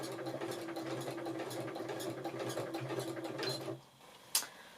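A domestic sewing machine stitches a quilt seam with a steady, rapid mechanical whir and tick for several seconds, then stops abruptly, followed by a single brief clack.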